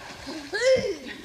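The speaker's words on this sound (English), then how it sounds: "every good boat person will tell you, at least once in your life, you need to be sure to tip the canoe" A canoe with two people tips over into a lake, producing one short splash of water at close range, accompanied by a voice crying out.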